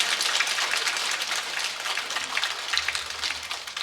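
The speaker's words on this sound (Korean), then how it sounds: "박수 쳐주셔도 됩니다." Audience applause at a Lenten lecture held in a Catholic parish church, a steady dense patter of many hands clapping throughout, fairly close and uninterrupted, with no talk over it.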